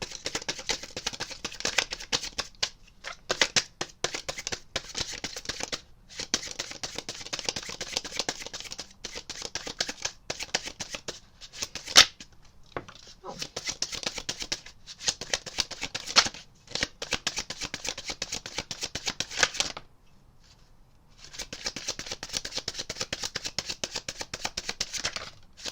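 Tarot cards shuffled continuously, with dense papery riffling and flicking in long bursts separated by brief pauses, close and moderately loud, one near-silent gap toward the end.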